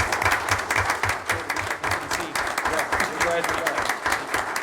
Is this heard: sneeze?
no